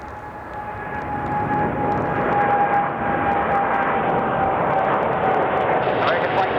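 Steady broadband aircraft engine roar at Chicago O'Hare airport under blue skies, a continuous moderate rumble with a faint tonal whine, heard at a distance with air traffic radio chatter in the background.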